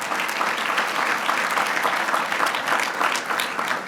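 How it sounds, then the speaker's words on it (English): Sustained applause from an audience at a 10th anniversary celebration event, many hands clapping in a thick, even patter that stays steady and fairly close for the whole stretch. "Please give him a round of applause as well."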